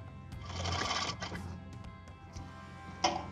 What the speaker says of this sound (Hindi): बिल्कुल इसकी साइड साइड में सिलाई लगाएंगे।